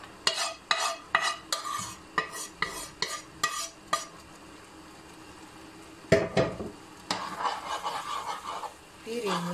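Chicken liver with flour being stirred in a pan, a rapid run of spoon scrapes and clinks against the metal, a short pause, then more scraping over soft sizzling; a voice speaks briefly.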